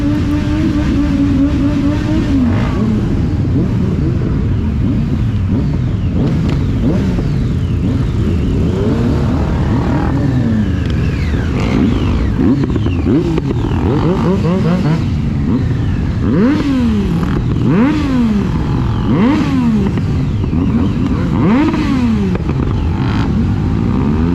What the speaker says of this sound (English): who was doing a burnout just behind me, and you'll see the smoke, plume of smoke go through